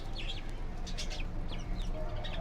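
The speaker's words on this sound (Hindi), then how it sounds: "ओए, मुर्गा।" A rooster clucks among chickens and chicks, with short, repeated calls standing out over steady outdoor background noise at moderate distance.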